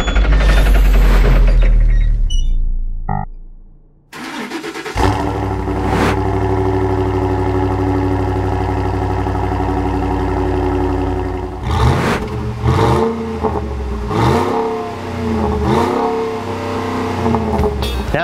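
A 2009 Ford F-150's Triton 5.4 liter V8 runs loud and close, a sharp burst at the start giving way to a steady idle drone, then several rising and falling revs.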